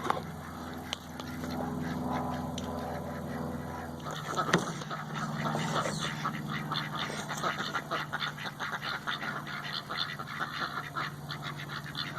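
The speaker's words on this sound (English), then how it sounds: "Sorry, my ducks are really loud." Loud ducks quacking nearby, a busy overlapping chorus of calls that continues throughout with a brief louder burst near the middle.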